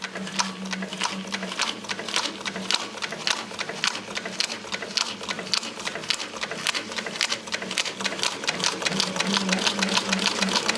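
A SEWPRO 745-30 long arm double needle walking foot machine with a jumbo bobbin stitches steadily, a fast even mechanical clatter of needle strokes running continuously and close.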